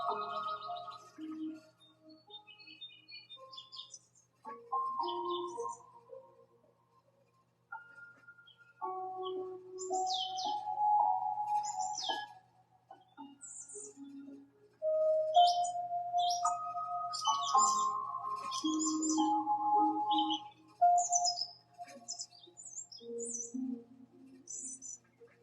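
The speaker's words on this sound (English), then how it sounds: "but there's also birds outside" Birds chirp and tweet outside in scattered bursts, clear and moderately near, with short gaps of near quiet between the calls.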